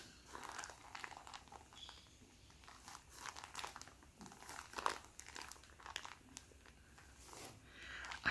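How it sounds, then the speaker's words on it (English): Plastic Shein shipping envelope crinkling up close, soft irregular rustles and crackles in quiet bursts, faint and intimate in a whispered haul setting, with no talking. "Like the plastic that this is made out of. I'm very picky when it comes to crinkle sounds."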